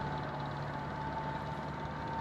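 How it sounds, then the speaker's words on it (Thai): A small walk-behind tractor engine drones steadily while ploughing a rice field, a constant mid-level hum with a fixed tone and no voices. "อีกที่นึงก็จะใช้รถรถไถเล็กนะคะ"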